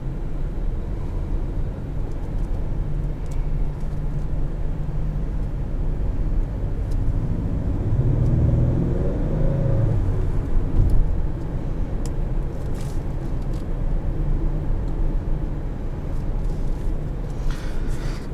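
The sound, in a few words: 2019 Acura RDX driving, 2-liter turbo four-cylinder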